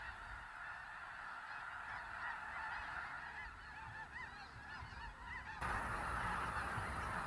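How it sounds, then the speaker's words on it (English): White-fronted geese honk in a steady chorus of overlapping calls, moderately distant and fairly faint, with the flock growing louder toward the end and no voices present. "The first of these waterfowl to arrive in Texas are the white-fronted geese"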